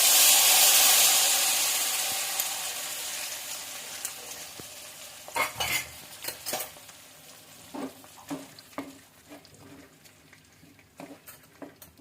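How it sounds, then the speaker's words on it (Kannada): A hot tempering is poured into a tamarind, jaggery and puliyogare powder mix, giving a loud hissing sizzle that fades. A spoon then stirs it, with scattered metallic scrapes and clinks close by. No one speaks. "ಇವಾಗ ನಾವು ಮಾಡಿಟ್ಟಿರೋ ಒಗ್ಗರಣೆನ ಎತ್ತಿ ಟ್ರಾನ್ಸ್ಫರ್ ಮಾಡೋಣ. ಅದಕ್ಕೆ ಹಾಕ್ಬಿಟ್ಟು ನೀಟಾಗಿ ಮಿಕ್ಸ್ ಮಾಡಬೇಕು."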